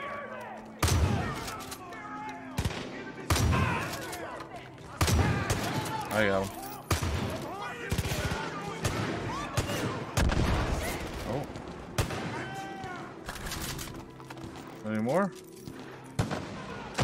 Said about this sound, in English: A lot of people shooting.